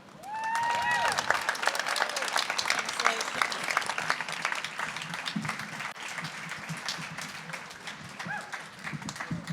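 Audience applause at the Kelsey Civic Center, a city music project, sustained and fairly loud across the whole stretch with crowd noise and some voices mixed in.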